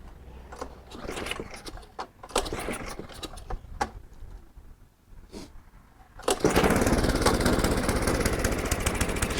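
Craftsman Snowking snow blower engine with a freshly sprayed carburetor: a few short sputtering, clicking attempts, then the small engine catches and runs loudly and steadily, close up.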